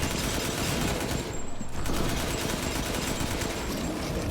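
Rapid automatic gunfire from the video game Resident Evil Village, a dense burst of repeated shots rattling loudly and steadily for several seconds with only a brief pause partway through.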